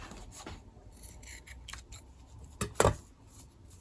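Scissors snip through paper while a junk journal page is trimmed, a few soft close cuts leading to one louder, sharper double snip near the end, with no talking.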